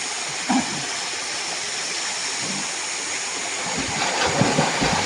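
Continuous rushing of flowing river water, a steady broadband hiss filling the whole stretch, loud and close, with no talking.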